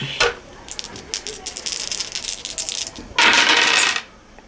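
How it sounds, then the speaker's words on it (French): Dice clatter and tumble across a surface in a quick rattling spill during a game of Zombie Dice, followed by a louder burst of rattling. "On va retirer 2 dés."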